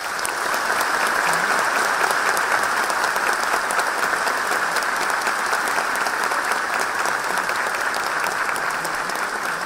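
Sustained applause from a large audience after the opening lecture of a labour court congress, a dense, even roar of clapping that holds steady and loud for the full length with no talking.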